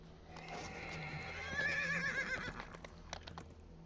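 A horse in a video game whinnies in a rising, wavering call over a soft background of hoof clops and ambient noise, moderately near.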